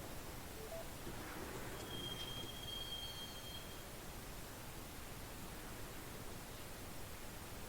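Train ride toward Roscoe Street Station in the video game Max Payne: a steady, fairly quiet rumbling hiss of a moving carriage with a brief high metallic wheel squeal partway through, no voices.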